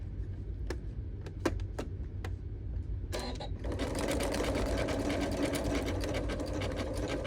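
A sewing machine stitches back and forth over coiled rope to make a rope bowl. A few sharp clicks come first, then a steady, close mechanical whirring hum runs to the end.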